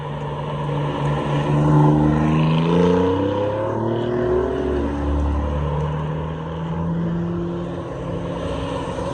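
An Alfa Romeo GTA M on an Alpine road in the French Alps, its engine note rising and falling as it sweeps past at a distance, a steady revving roar across several seconds.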